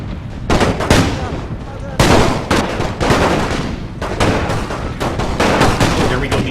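Dense battlefield gunfire from troops in a Great War mod of Rule Britannia, with sustained rifle and machine-gun volleys crackling loudly and almost without pause throughout.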